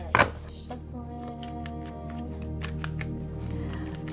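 A tarot deck is shuffled by hand, a sharp riffle at the start followed by soft repeated card slaps and slides, close and quiet against a low background hum.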